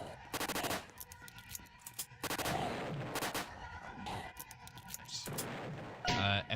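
Mortar fire in an FPS horror video game, with several loud, sharp bursts of booming gunfire separated by short gaps, heard close and punchy.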